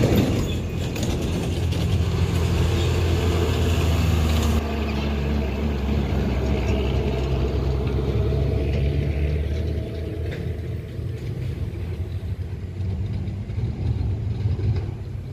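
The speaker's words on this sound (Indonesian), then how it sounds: "ada truk kanter yang akan melewati Tanjakan Batu Jomba ini" A Canter cargo truck on the Medan–Padang route grinds up the steep Batu Jomba hill, its engine a loud, close, continuous low rumble that eases slightly toward the end.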